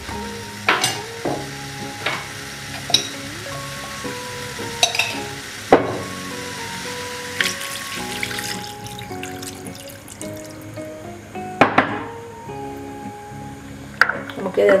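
Chicken for Punjabi chicken is stirred in a pot of water with salt and pepper, giving repeated scraping stirs and knocks against the pot over a steady simmer, with a voice talking over it.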